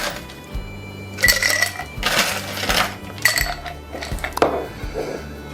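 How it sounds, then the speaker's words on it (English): Ice cubes clink and rattle into a cocktail glass in several distinct knocks and chinks, close and moderately loud, over a faint repeating low hum. "We need a glass, and we need some ice."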